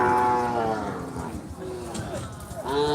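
Cattle mooing loudly at the Ambari cattle market in Dinajpur, one long low moo at the start and another rising call near the end, with a busy crowd murmuring in between.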